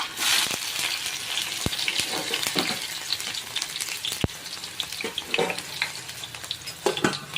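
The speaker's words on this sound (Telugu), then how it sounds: "ఇప్పుడు ఆయిల్ నాకు హీట్ ఎక్కింది, సో నేను ఇప్పుడు ఆనియన్స్ వేస్తున్నాను" Onions frying in hot oil for a raw mango fish curry, with a steady dense sizzle, occasional sharp clicks and stirring scrapes, and a brief splash of running tap water near the end, all close up with no voices.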